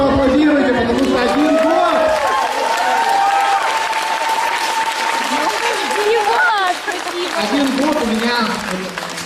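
Crowd at a company's first birthday celebration clapping in unison, with many voices calling out together over the steady applause throughout.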